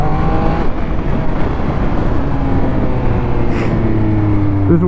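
A motorcycle engine revs hard and steadily as a freshly reassembled bike lifts into a wheelie, the loud, continuous motor note rising and holding close by with no talking.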